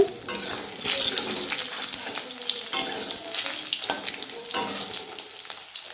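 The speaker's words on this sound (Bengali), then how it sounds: "তো ডিমটা একটু ভেজে নেওয়া হচ্ছে" Egg sizzling in hot oil in a wok, a steady crackling fry with scattered spits and occasional scraping stirs, close and fairly loud throughout.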